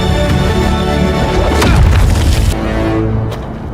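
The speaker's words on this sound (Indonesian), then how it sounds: "saya akhirnya dapat meledakkan bongkahan batu." A large boulder blasts apart in a film scene, a loud, dense booming crash that swells to a peak midway and then tails off into rumbling debris, with no voices.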